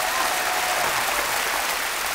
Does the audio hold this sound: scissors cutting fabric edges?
no